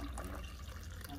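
Coffee being poured from a leaking coffee pot over a towel on a kitchen countertop, a soft continuous liquid trickle and splash heard close but quietly, with a murmur of speech faintly underneath.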